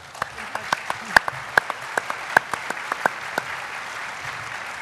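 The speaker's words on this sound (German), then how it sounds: "Einen ganz herzlichen Applaus." An audience at a German Israel congress panel discussion applauds, with a scattering of distinct, crisp handclaps in an uneven rhythm, fairly close in a hall.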